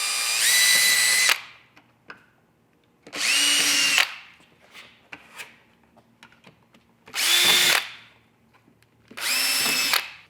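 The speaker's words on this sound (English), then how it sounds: "Now using a small drill bit, we can go ahead and pre-drill the 4 holes for mounting our light." Small drill bit pre-drilling four mounting holes for a light kit on a Club Car DS golf cart, four loud whining bursts of about a second each separated by pauses with faint handling clatter.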